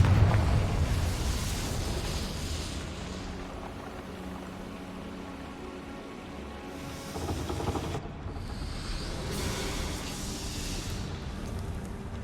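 A Confringo blasting spell explodes in the game Hogwarts Legacy: a loud, sustained roaring blast with crackling debris that swells again midway, heard alone without talk.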